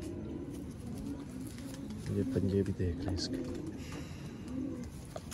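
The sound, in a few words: pigeons cooing, Ferozpuri pigeon breed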